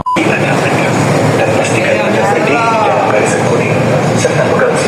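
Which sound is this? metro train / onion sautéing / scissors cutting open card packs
metro train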